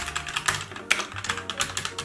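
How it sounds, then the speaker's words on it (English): Fast, steady typing on a cheap $30 keyboard, a dense run of crisp clacky keystrokes close up, with no voices. "Let's go do a little typing test"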